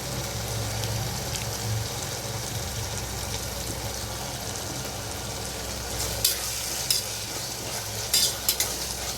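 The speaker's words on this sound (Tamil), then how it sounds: "ஒரு 5 நிமிஷம் போல் நல்லா வதங்கட்டும்" Mutton masala with yogurt sautés in a pan, giving a steady, close sizzle throughout, with a few sharp spoon scrapes and clinks toward the end.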